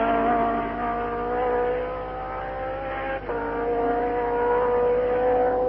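A 1969 Ferrari Formula 1 race car pulls into the pits at a grand prix, its engine note droning steadily and then dropping in pitch. The sound comes through as a muffled, band-limited broadcast with no talking.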